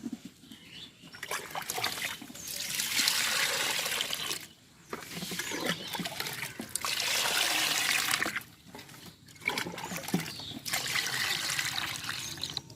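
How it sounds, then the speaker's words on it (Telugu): Water pouring and splashing over seeramenu fish being washed in a bowl, a steady rushing flow that breaks off briefly several times before starting again. "వాటర్ వేసి కడిగి తీస్తాను చూడండి"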